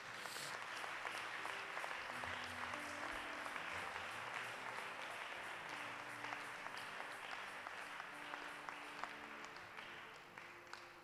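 A church congregation applauds and cheers in praise of the Lord, a steady sustained wash of clapping with faint voices beneath, heard at a distance and fairly quiet throughout.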